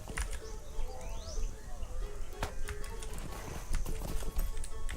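Hooves clip-clop steadily as a horse is ridden in Lord of the Rings Online, with a continuous rhythmic plodding gait, bright clicks and faint bird chirps in the background.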